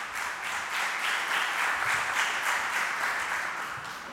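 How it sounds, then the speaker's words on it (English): An audience at a panel discussion on youth and radicalisation applauds the incoming moderator, a full burst of many hands clapping that swells and holds steady, then begins to taper off toward the end. "Please give a big applause for Rahul Chandawarkar"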